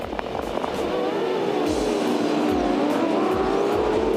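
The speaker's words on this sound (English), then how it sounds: "Fairly even start, but look at Whitcomb and look at Rick Kelly." Supercars race cars accelerating off the line at the start of a race at Oran Park, a dense loud roar of many engines with rising revs and gear-change pulses, broadcast crowd ambience beneath.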